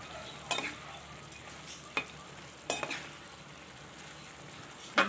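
Fried bitter gourd pieces stirred into a simmering tamarind curry, with a steady soft sizzle broken by four sharp scrapes of a spoon against the pan, no voices.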